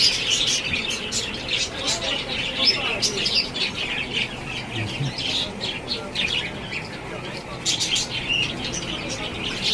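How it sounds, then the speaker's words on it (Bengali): Caged parrots and doves give a busy, overlapping chorus of close chirps and squawks that continues without pause. "ঘুঘু পাখি আছে, সব ধরনের পাখি।"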